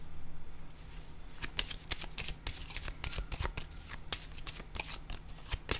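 A deck of tarot cards is shuffled up close, a run of quick crisp riffles and slaps in an uneven rhythm, fairly loud against a quiet room.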